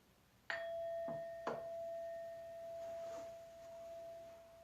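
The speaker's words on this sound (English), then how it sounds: "And I'm going to start with the sound of the bell." A ritual bell is struck twice in quick succession, each ring a clear metallic ding with a long sustained tone that fades slowly in a quiet room.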